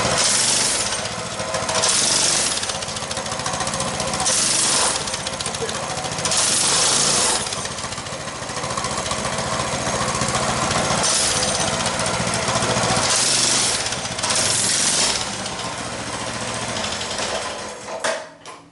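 A Coleman BT200X mini bike engine runs loud and close with a rapid chattering putter, its pitch swelling in repeated revving bursts before it winds down at the end.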